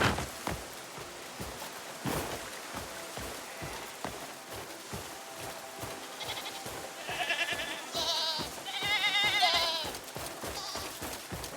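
Goats bleat in the video game Crimson Desert, several calls overlapping over a steady run of footstep-like thuds, growing louder in the second half.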